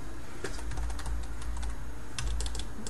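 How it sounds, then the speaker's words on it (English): Quick, close keystrokes on a computer keyboard as a password is entered, a brisk clattering run over a steady background hum. "I am just typing my password wrong because my fingers are on the wrong keys."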